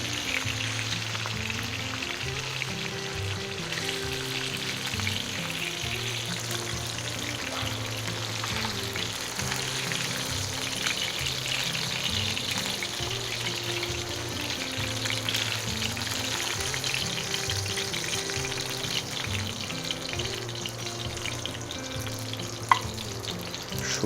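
Hilsa fish and eggplant frying in oil crackle and sizzle steadily and continuously at moderate loudness, with no voices.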